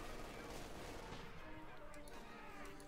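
Gunfire in Company of Heroes 2 crackles in dense bursts as pioneers come under fire while laying a mine field, faint and continuous beneath a commentator's voice.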